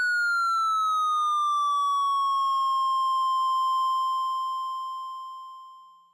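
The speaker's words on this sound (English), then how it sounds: "So now the pitch sweep will occur over a 4-bar duration." A pure synth tone glides smoothly downward in pitch, then holds steady and slowly fades out. No voices.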